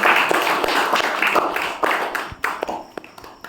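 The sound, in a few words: congregation clapping hands in thanks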